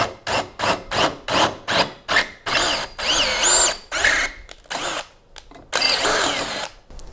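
Doliz BD637 20V cordless brushless drill boring into iron, up to a 10 mm bit: a series of short, loud, close whirring bursts that give way to longer sustained runs, with no talk.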